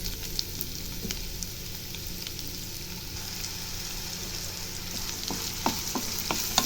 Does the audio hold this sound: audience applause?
no